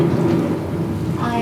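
Thunder rumbles under a steady downpour of heavy rain, a dense continuous wash of sound that stays loud and even throughout the short stretch.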